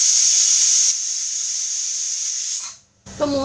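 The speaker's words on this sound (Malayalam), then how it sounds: "ഇപ്പോൾ 3 വിസിലൊക്കെ വന്നിട്ടുണ്ട്." Steady high hiss of a pressure cooker whistle venting steam while mutton curry cooks, loud and continuous for nearly three seconds, then cutting off abruptly before a voice starts speaking.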